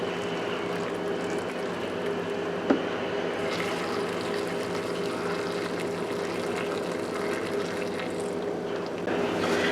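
Boiling water poured into jars of green beans being readied for pressure canning, a steady continuous pouring and filling wash running throughout with one small knock partway through.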